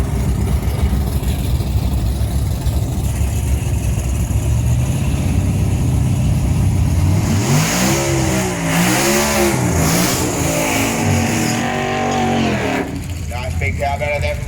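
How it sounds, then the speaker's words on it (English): A 347 cubic inch Mazda drag racing car at Benaraby Dragway revs loudly, its engine note rising and falling in sweeping surges midway through, over steady crowd and track noise, with a commentator talking throughout. "Dylan Bennett in the 347 cubic inch Mazda 99"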